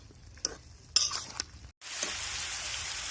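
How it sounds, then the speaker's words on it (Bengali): Vegetable fry with onion and chili being stirred in a pan: a few sharp utensil scrapes and clinks, then a sudden, steady close sizzle that holds to the end. "ভাজিটা লাড়া দিতেছি"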